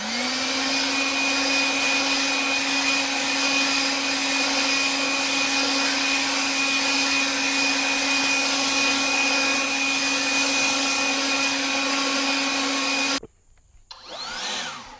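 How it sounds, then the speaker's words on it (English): A Kobalt 40V battery-powered leaf blower runs steadily and fairly loud with a constant whine and airy rush, then cuts off abruptly near the end, leaving a short faint tail. "it's a good little blower."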